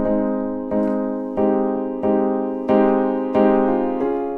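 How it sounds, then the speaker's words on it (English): A layered piano plays a slow melody of sustained chords from a remake of a song, a new note struck roughly every two-thirds of a second, each decaying smoothly. "This is how our piano sounds."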